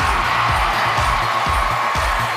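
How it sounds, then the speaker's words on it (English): A pageant audience roars at Miss Universe as a country's finalist is announced: a dense, loud, continuous cheer with a steady thumping beat underneath. "Listen to that crowd."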